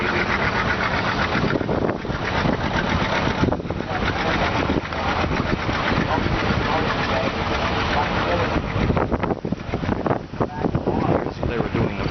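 A Case 110 hp traction engine runs at a farm plowing event, a loud, steady low chugging rumble with wind noise, while people talk over it.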